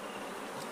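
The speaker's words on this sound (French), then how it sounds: "ces villageois ont repéré un essaim d'abeilles à l'intérieur de ce baobab" A steady, faint buzzing hum of a swarm of bees inside a baobab tree, continuous and unbroken, heard alone with no voices.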